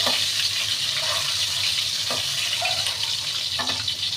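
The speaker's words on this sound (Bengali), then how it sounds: "টমেটো ভাজা হোক" Tomatoes fry in a home kitchen pan with a steady broadband sizzle, interrupted by a few faint clinks of a utensil against the pan. No one speaks.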